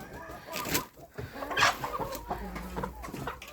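Chickens clucking and squawking nearby in irregular bursts, with a rooster among them and some scuffling background noise.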